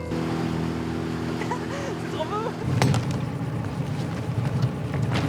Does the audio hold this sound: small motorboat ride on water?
yes